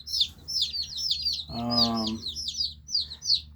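Mail-order chicks, Dominique, Barred Rock and Rhode Island Red, peep in quick high chirps that repeat throughout, close and clear, with a brief low hum or voice partway through.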